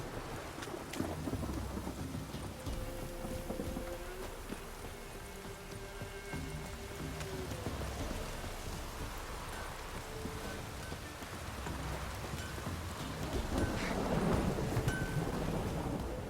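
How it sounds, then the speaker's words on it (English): A thunderstorm rolls through in The Witcher 3 game, with steady rain hissing throughout and low thunder rumbling at a modest, distant level. The storm swells somewhat louder toward the end, and no one speaks. "The storm, damn it."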